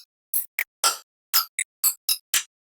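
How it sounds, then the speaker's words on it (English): Synthesized hi-hat made with Ableton Corpus resonators, with a ceramic-like ringing tone: eight short, bright, clicky hits in an uneven rhythm, each separated by silence. "that generates a lot more like ceramic-y kind of sounds like this"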